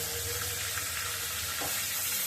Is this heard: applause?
no